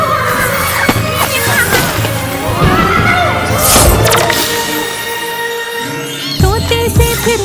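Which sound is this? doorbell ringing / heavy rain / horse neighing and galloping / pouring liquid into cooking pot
horse neighing and galloping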